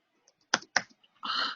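Keys clatter on a computer keyboard as an import CSV command is typed into PowerShell, a few separate clicks followed by a short, dense burst of rapid keystrokes, close and quiet with no voice.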